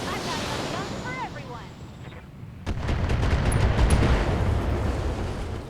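Mech weapons firing in the BattleTech game, with long-range missiles and a particle cannon, producing a loud burst of booming, rumbling blasts that swell midway and persist, following quieter game sounds with a swooping tonal effect.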